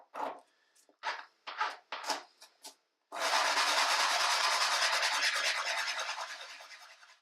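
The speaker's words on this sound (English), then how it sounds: "Then I use a file and some sandpaper to remove the copper burrs." A file and sandpaper work burrs off small copper weights: a handful of short, separate rasping strokes come first, then a long continuous scraping rub that slowly fades, close up and with no voices.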